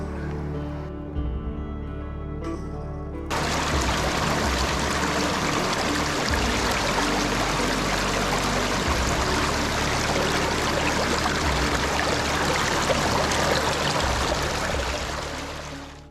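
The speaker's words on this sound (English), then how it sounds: "put a scoop of the classified material into the sluice and see how it flows through" Steady broadband rush of water flowing through a gold prospecting sluice box loaded with classified material, starting abruptly after a few quiet seconds and continuing loud and even to the end, with no voices.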